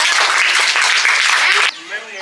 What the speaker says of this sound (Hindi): सब लोग अपने अपने लिए एक बार तालियां बजाइए कि आप लोगों ने इतना समय दिया।